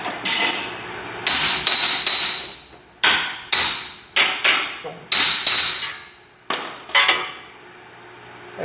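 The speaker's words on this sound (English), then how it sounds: "now you see I whacked that with the hammer and kind of tweaked it a little bit right there" A hammer strikes a Jeep wheel assembly with a bad wheel bearing in a series of loud, ringing metallic blows, about eight hits spaced irregularly, each leaving a brief clanging ring.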